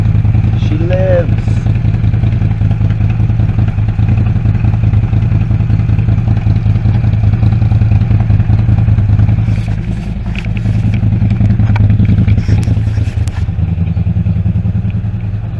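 A CFMOTO ZFORCE UTV engine, newly repaired after hydrolocking, runs steadily at a loud, close idle with a constant low drone and some rattling clatter, while a voice speaks briefly over it.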